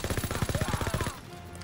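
Short burst of fast machine-gun fire in Call of Duty WWII, about a dozen evenly spaced shots that stop suddenly, followed by faint battlefield noise.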